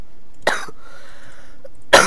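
Two sharp coughs about a second and a half apart, close and fairly loud, with quiet room tone between them during a Minecraft survival games session.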